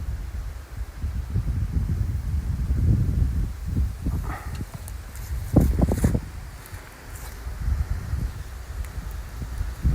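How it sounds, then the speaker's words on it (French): A light, cool breeze blows outdoors during a walk, making a low, uneven buffeting rumble against the microphone with brief rustling bursts rising and falling over ten seconds. "C'est du bien ce petit vent là."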